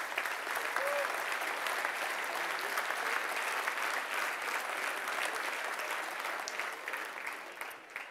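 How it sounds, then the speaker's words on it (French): A live audience applauds at a public presentation of summer programming, a steady, dense wash of clapping that holds evenly and close for the full length, with no one speaking over it. "vous pouvez donner une bonne main d'applaudissement à la programmation."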